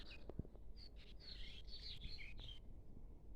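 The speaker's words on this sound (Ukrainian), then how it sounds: "Пташки співають." Faint birds chirping and trilling in short bursts, a little distant, over a soft outdoor background hiss.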